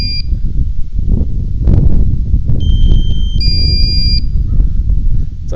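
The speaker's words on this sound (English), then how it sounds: "So I'm getting a low battery alarm" A DJI Mini 3 drone sounds its low battery alarm, a series of sharp, high electronic beeps, some in quick repeated bursts, over loud steady wind noise outdoors.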